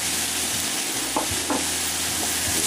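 Cubed eggplant, peppers, onions and portobello mushrooms sizzle in a pan for a frittata while being stirred, a steady fry with a few soft utensil scrapes and knocks, no talking.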